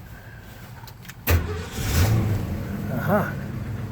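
1969 Ford Bronco half cab with a column-shift 3-speed manual, its engine cranking and catching with a sudden burst, then idling and revving briefly; a short voiced remark comes just before.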